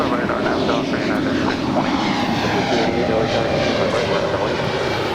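Airliner taking off from runway 25 right at LAX, a steady loud roar of jet engines that holds throughout without letup.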